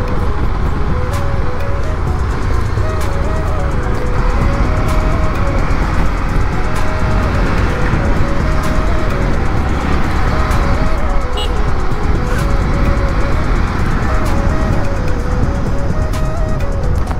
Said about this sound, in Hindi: ट्रैफिक तो लगा हुआ है आज भी बहुत।